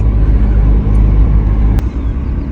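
A Seat Leon Cupra driving on the road, heard as a steady, loud low engine and road rumble from inside the car, continuous with no talking.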